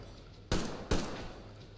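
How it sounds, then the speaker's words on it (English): Two sharp gunshots about half a second apart from a firearm in Metro Exodus, loud and close, each ringing out briefly over a low ambient hum. "I just shot his head off."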